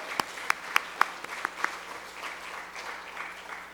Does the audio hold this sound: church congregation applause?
yes